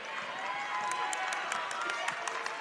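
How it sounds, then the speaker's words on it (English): A steady, distant crowd roar rises from the Carmel section across the gym during a girls high school basketball sectional game, with scattered sharp claps and squeaks under continuous murmur. "As you hear the Carmel crowd across the way"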